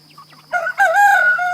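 A month-old meat chicken lets out a loud, close, drawn-out squawking call after a quiet start, its voice wavering and strained, heard alone.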